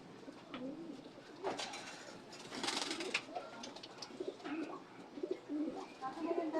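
Pigeons in a breeder's loft coo softly in low, repeated throaty calls, close by, mixed with rustling and a few light movements.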